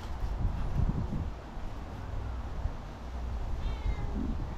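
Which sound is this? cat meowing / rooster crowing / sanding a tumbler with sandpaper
cat meowing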